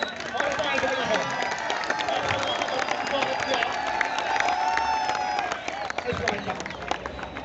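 An audience at a kabaddi final applauds and cheers through a dense wash of clapping and crowd noise, while a commentator speaks over it.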